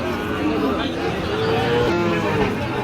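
Sahiwal cattle lowing at a livestock market in Ambari, Dinajpur: a drawn-out nasal moo rises and falls over a busy, murmuring crowd background.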